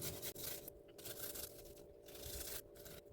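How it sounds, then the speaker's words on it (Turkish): Two or three large garlic cloves are rubbed across a kitchen grater for a zucchini pickle sauce, giving a soft, steady rasping scrape in repeated strokes with brief pauses, close and fairly quiet. "2-3 diş büyük sarımsağı rendeleyeceğim"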